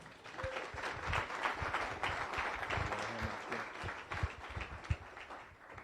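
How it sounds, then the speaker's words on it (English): Audience at a Rotary Club weekly meeting applauding a Staff Sergeant as she comes up, continuous clapping from a room of people heard from a distance, fairly quiet with a few sharper claps standing out. "Big round of applause, please."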